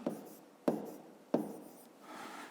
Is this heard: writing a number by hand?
yes